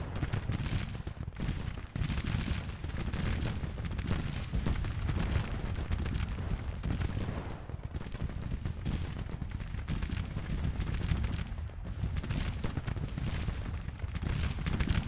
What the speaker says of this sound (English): Now the cannon burst is insane.